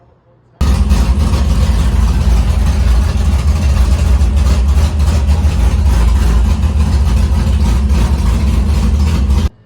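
A Chevrolet Vega drag car's engine idles right after startup, a loud, steady, rumbling drone that holds close and unbroken for several seconds after a sudden start.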